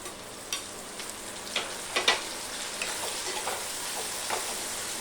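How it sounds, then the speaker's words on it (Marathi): Tomato and curry leaves frying in a pan for Marathi-style dal fry, giving a steady soft sizzle with a few sharper stirring scrapes and bursts spread through, close and fairly quiet, with no talking. "कढीपत्ता घातला आता हा टोमॅटो घालून घेऊया"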